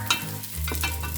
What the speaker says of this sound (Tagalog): Igisa ang bawang,